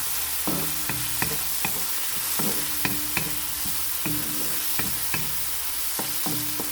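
Tofu and okra with spices sauté in a pan, a steady close sizzle broken by repeated sharp clicks and scrapes of a utensil stirring, with no talking.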